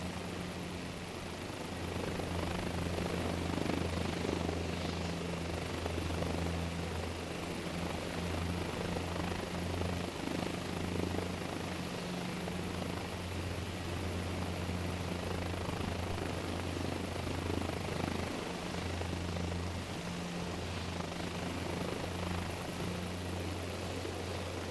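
Helicopter hovering in Microsoft Flight Simulator 2024, a steady loud rotor and turbine drone with a constant low thrum that holds even throughout, with no voice over it.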